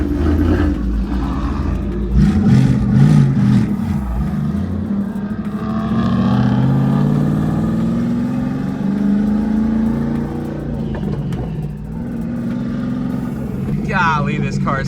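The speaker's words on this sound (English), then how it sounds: "Don't mind the exhaust leak." Twin-turbo S197 Mustang with a Tremec manual and an exhaust leak, driven on the road: a loud, rough engine drone rises and falls through gear changes while someone talks over it.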